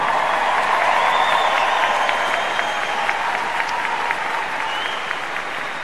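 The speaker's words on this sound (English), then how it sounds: "I really wanted to receive a warm applause here in the Matt Knight Arena" Warm applause fills the Matt Knight Arena at a University of Oregon commencement, a large crowd clapping steadily and loudly throughout, with a few whistles rising above the dense sustained roar.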